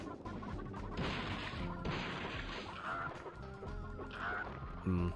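Clucking chickens in the Gex 3: Deep Cover Gecko video game, mixed with smashing and whacking game effects and busy background music, fairly loud throughout with a heavy thud near the end.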